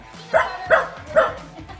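Corgi barking impatiently indoors in a kitchen: three loud, close woofs spaced about half a second apart, with faint background noise between them.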